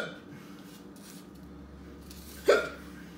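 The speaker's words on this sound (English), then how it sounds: "I got hiccups. I never get hiccups." A single sharp hiccup bursts out after eating a very spicy chocolate, brief and close amid quiet room sound.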